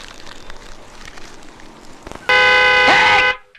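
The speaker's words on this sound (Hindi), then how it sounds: "हॉर्न बंद कर, हॉर्न बंद कर, हॉर्न बंद कर, हॉर्न बंद कर" A car horn sounds one loud, continuous blast lasting about a second, then cuts off. Quieter background noise comes before it.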